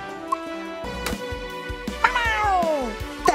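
A cat-like meow from Gary the snail in the SpongeBob campaign of Nickelodeon All-Star Brawl 2, sounding as two or three clear, close meows with a rising-falling pitch over background game music.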